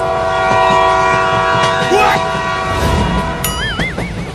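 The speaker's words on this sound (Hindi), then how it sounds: "अरे तोरी के, वो दोनों तो ट्रेन को लेकर भागने लगे।" Cartoon train running off, a loud continuous rumble with horn-like tonal blasts and a rising, wavering whistle near the end, layered over busy background music and effects.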